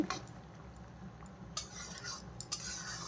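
Spices being stirred through okra curry in a pan, a utensil scraping and clinking against the metal in soft, irregular strokes, with a faint low background hum and no voices.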